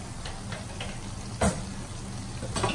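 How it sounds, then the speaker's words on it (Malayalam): Chicken sausage masala with a spoonful of curd fries steadily in a pan, a continuous close sizzle broken by a few scraping stirs, with one brief louder stir in the middle and another near the end. "തൈര് ചേർത്തിട്ട് ഇത് നന്നായിട്ടൊന്ന് മിക്സ് ചെയ്ത് കൊടുക്കണം."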